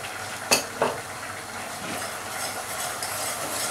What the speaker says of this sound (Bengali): ময়দাগুলোকে সুন্দরভাবে মিশিয়ে নিব।